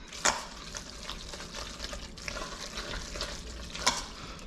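Lobster mac and cheese being stirred in an Instant Pot, soft wet scraping and gooey squelching sounds with a few sharper clinks of the spoon against the pot, fairly quiet and steady.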